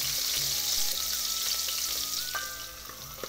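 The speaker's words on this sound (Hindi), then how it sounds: "और मैंने तेल पहले डाल दिया था, गर्म हो गया। और डाली थी हरा धनिया की दाल" Green coriander seeds frying in hot oil in a pahari home kitchen, a loud close continuous sizzle with crackles and a few scraping stirs, fading slightly toward the end, no talking.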